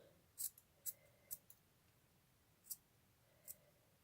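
Scissors snipping wool yarn, five or six quiet crisp snips in an uneven rhythm, close up in an otherwise quiet room.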